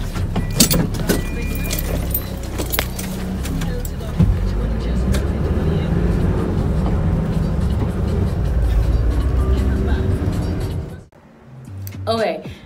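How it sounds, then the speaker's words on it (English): A large campus bus in Grenada drives along with a steady engine rumble and road noise, rattles and clinks throughout, and voices talking over it before it quietens near the end. "this is the campus bus, the bigger buses"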